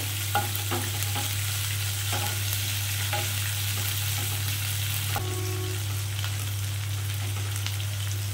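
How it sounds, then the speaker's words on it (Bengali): Onions fry in a pan for chicken do pyaza, a soft steady sizzle under a constant low hum, with occasional scrapes and taps of a spoon stirring them. "মিনিট 2-3 একটু বাড়িয়ে বাড়িয়ে এভাবে ভেজে নেবো।"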